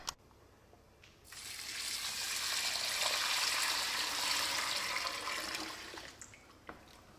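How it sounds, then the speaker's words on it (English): Five liters of water poured all at once into a container while making a homemade sulfur garden germicide, a loud rushing gush building after a click, holding steady for about five seconds, then tapering off. "You should add this water all at once."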